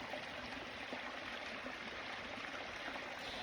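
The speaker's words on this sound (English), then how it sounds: "So you see our little mini waterfall back there." A backyard creek with a small waterfall, flowing year-round beside a rural property, gives a steady, even rushing and trickling that continues without a break at moderate distance, with no voices.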